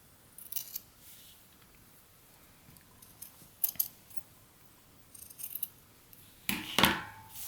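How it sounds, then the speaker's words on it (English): Scissors trim excess sock fabric in several short, quiet snips spaced a second or two apart, ending in a louder, longer cut close by. "I'm going to just trim off all this excess"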